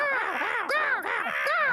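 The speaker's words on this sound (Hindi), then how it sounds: "वो रहे कौवे" Several crows caw loudly and repeatedly, harsh overlapping calls in a quick, continuous rhythm close by, in the Ninja Hattori cartoon.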